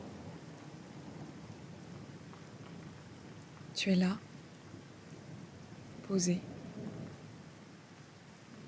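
Steady rain patters in the background with a low rumble like distant thunder throughout, under a soft voice speaking twice in French.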